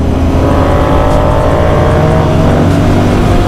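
Loud, close exhaust drone from a Continental GT 650 motorcycle wearing a Barrel Atom exhaust, holding a steady rumbling note with slight swells as it rides along.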